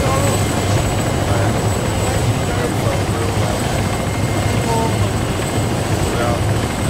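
A helicopter in ArmA 3 comes down for a hard landing, its rotor thumping loud and steady throughout with a constant turbine whine over it, while people talk in the background.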